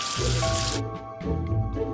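Running water rinsing soap off splashes and trickles, loud at first, then lighter splashes continue in short bursts.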